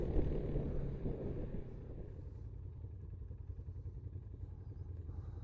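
A motorcycle rides through the countryside on an autumn trip, its engine giving a steady, close, low rumble that never stops, with a slightly louder start.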